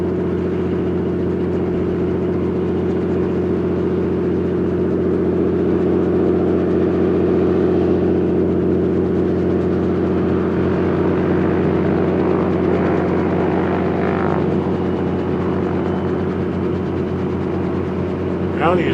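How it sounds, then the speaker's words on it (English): Steady engine drone of a plane arriving at Big Bear airport, heard from the terminal, holding at a constant level throughout with a faint shift in pitch late on. "Comes another plane in."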